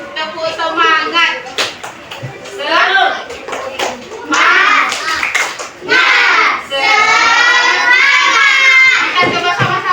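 Fourth-grade children in a classroom do a rhythmic clapping game, tepuk semangat, sharp hand claps in short bursts alternating with children chanting and a teacher talking.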